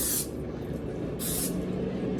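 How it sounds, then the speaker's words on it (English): Two short hissing bursts of cooking oil spray into an air fryer preheated to 350 degrees, close and clear over a low steady hum. "Spray that so it won't stick."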